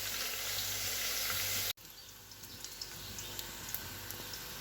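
Spicy masoor dal fritters with mustard paste sizzle in hot oil, a steady hiss that cuts off abruptly, then resumes quieter with scattered small pops and crackles.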